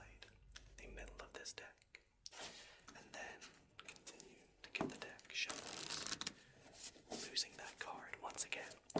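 A deck of playing cards is shuffled in bursts of riffling and soft flicking, close and quiet, with whispered talking weaving between and over the shuffles.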